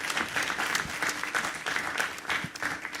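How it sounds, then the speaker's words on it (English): Steady applause from an awards ceremony crowd, a dense patter of many hands clapping at moderate distance, with no voices standing out. "Another round of applause for him."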